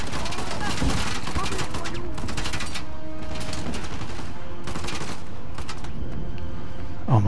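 Bursts of rapid gunfire from the video game Uncharted: The Lost Legacy, loud repeated volleys with booming impacts in several clusters, with a player's voice talking briefly over the action.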